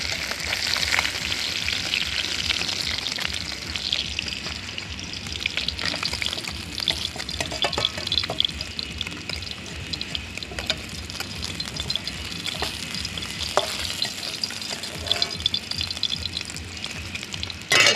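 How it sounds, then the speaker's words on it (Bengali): Amudi fish fry in a pan of hot oil, giving a steady, close crackling sizzle that holds for the whole stretch, with faint splashes and clinks of stirring mixed in and no talk. "পাশেও ভাজা হয়ে গেছে আমুদি মাছটা"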